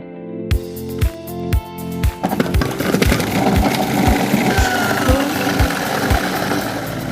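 Robot-Coupe food processor grinding blanched, cored orange halves: a few spaced mechanical thumps, then a steady loud motor whir with regular knocking pulses as it churns the fruit.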